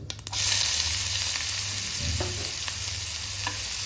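Chopped onion dropped into hot oil with mustard seeds and cumin gives a loud, steady sizzle that swells at the start and then holds, with a few faint stirring scrapes, close up.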